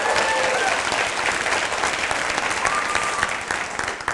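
Applause from a TED talk audience, a dense, loud wash of clapping that runs steadily and fades slightly toward the end, with no voice over it.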